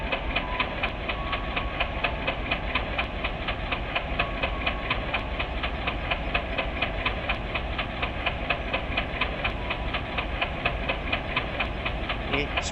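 Locomotive engine in the Train Simulator Indonesia game, throttled up gently, a steady low diesel drone with a regular ticking pulse, even and continuous, recorded from the game's output.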